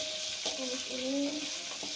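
Rendang spice paste for a beef rendang sautéing in a pan, a steady close sizzle with soft stirring scrapes and faint tonal clinks running under it.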